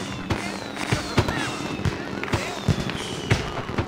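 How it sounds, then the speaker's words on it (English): Fireworks from the fantasy MMO RIFT celebrate a finished quest, with repeated crackling pops and whistling rockets layered over a busy game soundscape, steady and fairly loud. "I got fireworks and people clapping for me."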